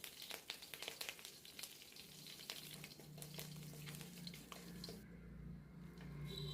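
Curry leaves hit hot coconut oil where dried red chillies are already frying for a coconut upma, giving a steady close sizzle and crackle that swells louder toward the end.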